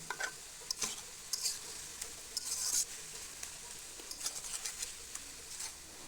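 Cabbage curry with coriander leaves and spices stirred and mixed in a pan, giving soft scraping and tapping strokes over a low continuous sizzle, with a few brighter clinks near the middle and toward the end.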